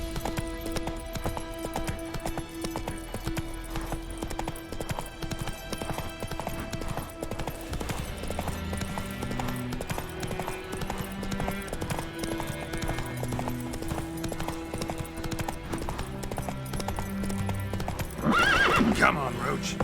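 Geralt's horse Roach in The Witcher 3: Wild Hunt, rhythmic hoof clip-clop at a gallop under game music, with a loud whinny near the end and a voice speaking.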